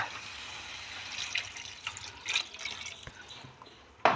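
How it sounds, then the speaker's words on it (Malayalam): Water used to rinse a blender jar is poured into a pot of potato masala curry, making soft, faint trickling and dripping that ends in a sudden louder splash. "ആ മിക്സി കഴുകി ഒഴിക്കണ വെള്ളം വേണം നമുക്ക് ഇതിലൊഴിക്കാൻ"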